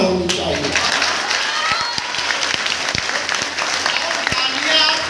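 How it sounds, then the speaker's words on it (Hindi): An audience at a Hindi Diwas humor and satire poetry gathering at an intercollege claps, loud scattered hand claps over a crowd murmur, with sharp individual claps standing out. "तालियां आपकी फिर एडवांस बज रही हैं"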